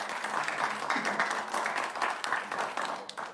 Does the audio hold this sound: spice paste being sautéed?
no